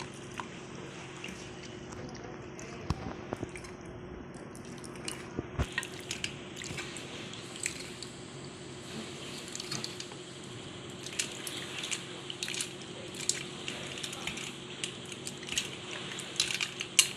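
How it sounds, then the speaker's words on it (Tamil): Wet squishing and dripping as tamarind is squeezed and kneaded by hand in water for rasam, soft irregular squelches and splashes close by, quiet and intermittent. "புளியை முதல்ல நம்ம தண்ணி ஊற்றி கரைச்சிக்கலாம்"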